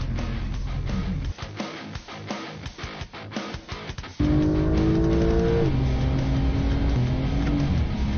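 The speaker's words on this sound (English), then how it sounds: "It's the fastest car I've ever been in my entire life." A race car at speed on a track, engine roaring loud and close with rapid pulsing surges, then a steady high-pitched sustained whine of acceleration and shifting.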